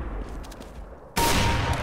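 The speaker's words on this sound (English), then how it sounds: "AWP. It's a sniper rifle." AWP sniper rifle in Counter-Strike: Global Offensive: a quiet stretch breaks into one abrupt, loud report that rings on, sustained and close.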